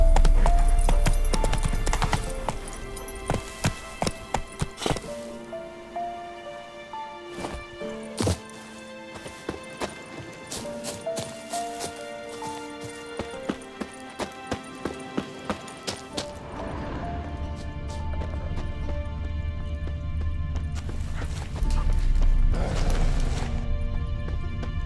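Roach the horse galloping in The Witcher 3, quick rhythmic hoofbeats that run through the middle of the stretch, then fade into louder rumbling ambience and music.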